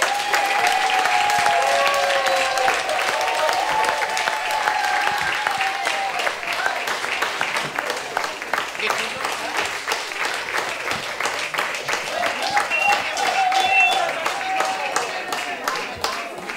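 Audience applause welcoming the Celebrations Band onto the stage at a hotel event, a sustained, steady round of clapping from a crowd lasting well over ten seconds, with a few voices over it.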